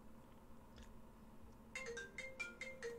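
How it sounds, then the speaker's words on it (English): A phone ringtone chimes in a quick run of bright melodic beeps, starting partway through and continuing to the end, fairly quiet over a low background hum, with no talk. "And my phone's ringing."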